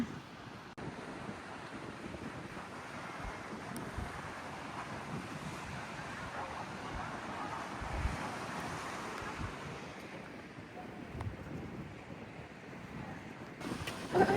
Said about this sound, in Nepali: कस्तो यहाँ चाहिँ हावा रहेछ